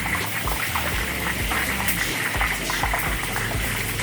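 Tofu pieces dropped into hot frying oil for fried tofu, giving a steady close sizzle and bubbling crackle with small pops throughout, and no voices over it.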